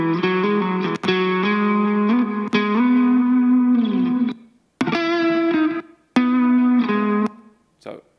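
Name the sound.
noise gate effect applied to played music signal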